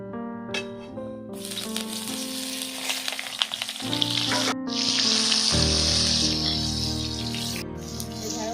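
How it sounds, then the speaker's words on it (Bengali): Marinated okra frying in hot oil in a kadai, a steady loud sizzle and crackle filling the whole stretch, with clinks of a utensil and some background hum. "তেলটা গরম হয়ে গেছে, আমার ম্যারিনেট করা ঢেঁড়স আমি ভেজে নিচ্ছি"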